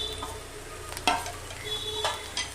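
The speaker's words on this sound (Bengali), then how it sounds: "ভালো করে এবার এটাকে নাড়ব।" Turmeric, Kashmiri chili powder and grated ginger fry in oil in a pan while being stirred, a soft sizzle beneath a few sharp spoon clicks and scrapes, close and fairly quiet, without speech.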